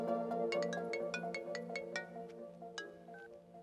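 A mobile phone ringtone plays for an incoming call from mother, a quiet melodic tune of plucked notes repeating in a steady rhythm, with no talking.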